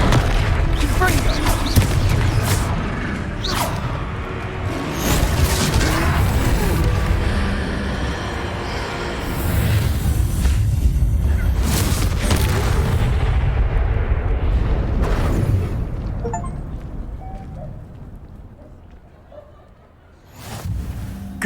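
A Confringo blasting spell explodes in Hogwarts Legacy during a troll fight, with heavy booms and rumbling buried in dense game noise and voices, loud throughout before easing near the end.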